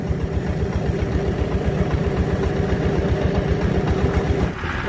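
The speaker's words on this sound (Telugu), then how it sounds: "స్తోమత ఉన్న వాళ్ళేమో ఇంజిన్లు పెట్టేమో చేసుకుంటున్నారు చూడొచ్చు కొంచెం" Small engines running at an artisanal gold mine in Mali, a steady rumbling chug at close range that continues evenly before dropping away at the end.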